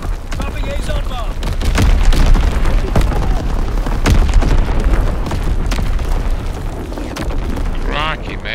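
Loud, dense barrage of bomb and artillery explosions in the World War II shooter Call of Duty WW2, with repeated booming blasts and rumbling layered under game voice callouts.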